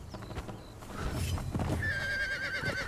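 A horse in the Conan Exiles video game lets out a fairly quiet whinny, with faint hoof clip-clops and game ambience around it.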